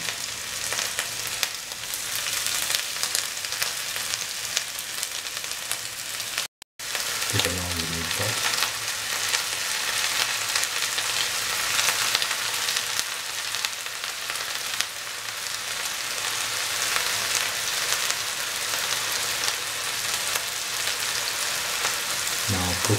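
Mutton meatballs frying in a pan, giving a steady loud sizzle that continues for the whole stretch, with a brief break near the start and a few soft stirring sounds.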